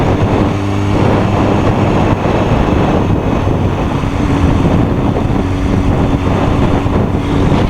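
2015 BMW S1000RR motorcycle riding on a freeway, a loud unbroken rush of wind buffeting the microphone over a steady engine drone, close and constant throughout.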